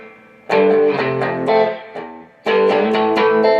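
Electric guitar played through a Gibson GA-55 RVT tube amp with its reverb set to 5, loud strummed chords and picked notes ringing with a reverberant tail, two bursts separated by a short decaying pause.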